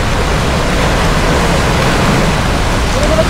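Waves washing against the Baseco jetty, a steady broadband wash of surf and water that holds at even loudness throughout, with no distinct breaks and faint voices in the background.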